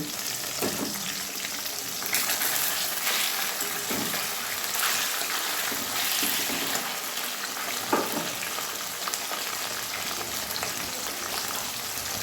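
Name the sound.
fish frying in a covered pan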